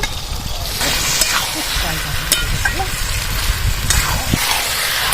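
Fried potatoes and jackfruit tip into a hot pan and keep up a steady loud sizzle, with a few scraping stirs and talk over the frying.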